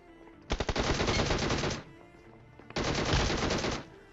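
Automatic gunfire in a mobile battle shooter game, two long bursts of rapid shots about two seconds each, separated by a short gap, loud and close.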